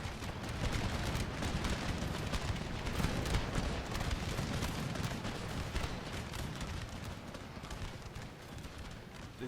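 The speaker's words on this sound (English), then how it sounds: "Loads of cannon shot going in among that mix as well." Dense, continuous battle din of a siege in Empire Total War, with cannon shots mixed into a steady rumble of gunfire and troop noise, fairly constant throughout.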